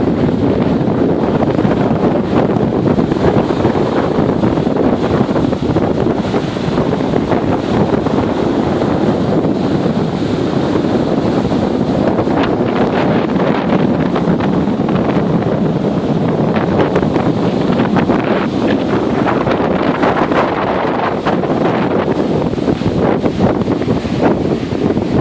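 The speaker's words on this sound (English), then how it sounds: "Waves are breaking past the pier today." Strong tropical-storm wind buffets the microphone as waves break past a beach pier. A continuous roaring wash of surf and gusts runs loud and unbroken for the whole stretch, with no voices.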